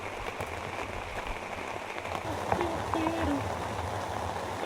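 Steady rain falling outdoors at a waterside fishing spot, a continuous soft patter that runs through the whole stretch beneath a voice speaking close by.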